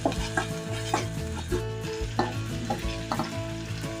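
Onions frying with ginger and garlic paste are stirred in a pan, a steady sizzle broken by regular scraping strokes of the spoon, close and without talk.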